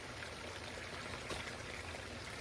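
Pond water sloshes and swirls steadily as a hand stirs it in a circle, a faint continuous watery rush with no voices over it.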